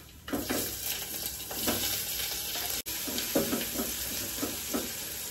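Onions frying in oil with curry leaves in a home kitchen, a steady sizzle with repeated stirring scrapes and light pan knocks, close and continuous, no talk.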